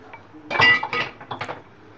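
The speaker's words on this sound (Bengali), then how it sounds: "এখন আমি একটা বাটিতে নিয়ে নিয়েছি 4 চামচের মতো কর্নফ্লাওয়ার আর একটু নুন, আর তার সঙ্গে দিয়ে দেবো জল" A spoon clinks against a bowl while cornflour, salt and water are stirred together, with several quick, bright, close taps bunched in the middle and no talking.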